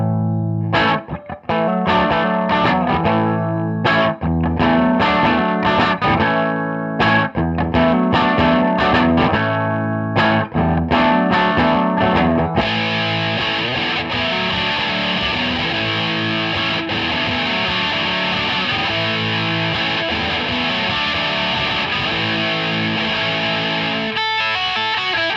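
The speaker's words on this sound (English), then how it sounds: "this guitar sounds really good with this pedal" Electric guitar with humbuckers through a Mooer Black Secret distortion pedal, chords and riffs ringing out loudly, then a long sustained wall of saturated, effected sound with no talking.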